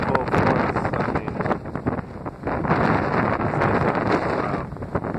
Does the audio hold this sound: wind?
yes